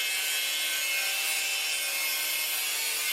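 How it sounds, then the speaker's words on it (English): Angle grinder cutting metal on a rolling library ladder build, giving a steady, bright, hissing grind that holds without a break from start to finish, close and fairly loud. "I'm going to use the angle grinder to cut this out."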